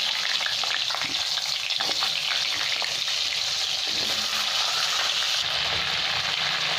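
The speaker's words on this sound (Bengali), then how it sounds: "এবার এই মাছ ভাজার তেলে আমি আলুগুলো সব ভেজে নেব" Potatoes fry loudly in oil left over from frying fish, a dense close sizzle with frequent stirring scrapes and pops throughout.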